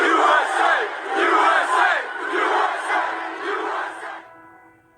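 A large crowd cheers for the police at an outdoor gathering, a loud dense roar of many voices rising and falling in waves for about four seconds before cutting off abruptly.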